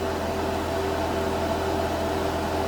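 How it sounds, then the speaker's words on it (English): A secondary cooling fan runs steadily in a workshop, a constant close whirring drone with a faint tonal hum, no voices. "I got my secondary fan on too"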